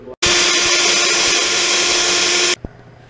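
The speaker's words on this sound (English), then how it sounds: "we're going to drill some sound holes for it" A loud power drill whirs steadily for over two seconds, drilling sound holes in a guitar body, starting abruptly and cutting off sharply, followed by a brief knock.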